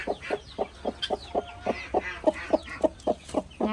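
A brooding hen sits on her eggs and clucks steadily, a rapid run of short, evenly spaced low clucks close up with no other voices.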